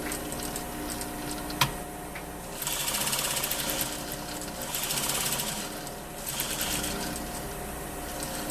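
A sewing machine stitches a single welt pocket on a pocket bag and welt, running in a few rapid, even bursts with brief pauses between them, including short backtacks at the ends.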